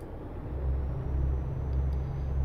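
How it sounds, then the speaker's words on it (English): A Volvo FH16 Globetrotter truck cruising in Euro Truck Simulator 2, a steady deep engine drone with low rumbling road noise, continuous and even, with no voices. "I am driving a Volvo FH16 Globetrotter."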